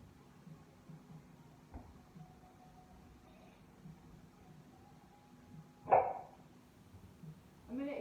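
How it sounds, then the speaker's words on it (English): Against a very quiet, humming indoor background, a young dog gives a single sharp bark, then a shorter one right at the end. "I'm going to ignore the barking right now because she's just trying to push and see what she can do."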